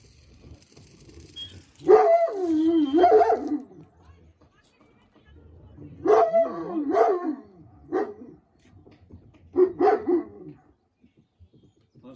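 A dog yelps and barks in three short bursts with pauses between, fairly close, in an otherwise quiet setting.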